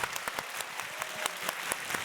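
Audience clapping together after a talk, a steady wash of many hands with a few sharper claps standing out, lasting about two seconds with no voices.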